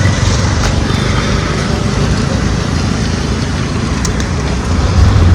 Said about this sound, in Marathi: बसलोय आता रिक्षामध्ये आणि आता चाललोय